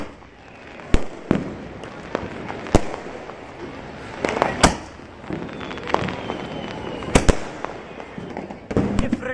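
A green 12-shot fireworks cake fires outdoors at an Uttarayan festival, with a dozen or so sharp loud bangs at irregular intervals, crackling in between and voices in the background.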